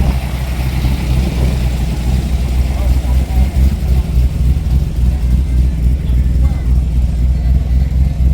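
A drag racing car with a 5.3 litre Rover engine at a Kent drag strip gives a loud, steady, low engine rumble that fills the scene, with voices mixed in.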